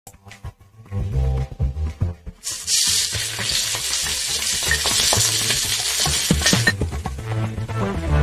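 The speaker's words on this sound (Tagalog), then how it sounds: "Igisa natin yung bawang. Sunod na natin yung sibuyas." Garlic and then onion sautéing in hot oil in a pan for kinamatisang baboy, a steady loud sizzle that swells after a quiet start, with frequent stirring knocks and clinks of the utensil against the pan.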